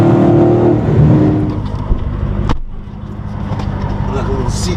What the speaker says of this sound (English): the sound of that dual exhaust, man, with all that horsepower just leaking out the back